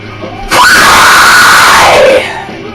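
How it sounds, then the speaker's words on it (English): A single sustained metal vocal scream of the high screech type, loud and harsh, held steady for about a second and a half before dropping slightly in pitch and cutting off, heard alone. "You'll get the screech type."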